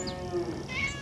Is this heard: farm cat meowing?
yes